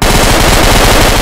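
Loud, continuous automatic gunfire in the shooter game Insurgency, a rapid stream of close, heavy shots with no break over about a second.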